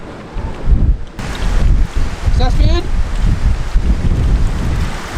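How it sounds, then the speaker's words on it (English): Strong wind and rain lash the outside of a van on a stormy day in Pamplona, Spain, a loud steady roar of gusts buffeting the microphone, with a person speaking briefly under it. "It's just so windy, raining."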